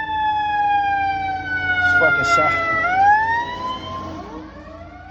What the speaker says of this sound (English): sirens is killing me right now, man